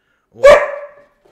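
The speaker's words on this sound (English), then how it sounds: "no, I'll just have to ignore Cal, otherwise he'll keep barking if I keep looking at him" A single loud dog bark, close to the microphone, with a short ringing tail fading over about half a second, then silence.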